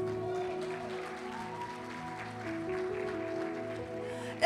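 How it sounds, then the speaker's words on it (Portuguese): An audience applauds the mothers at a Portuguese-language talk. The steady applause continues throughout at moderate loudness beneath a sustained musical tone. "Vamos aplaudir as mães?"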